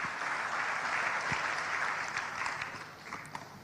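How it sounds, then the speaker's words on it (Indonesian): A church congregation bursts into steady, dense applause at a sermon, many hands clapping together in a broad sustained wash that holds for several seconds before thinning slightly. "Yang setuju berikan tepuk tangan yang meriah."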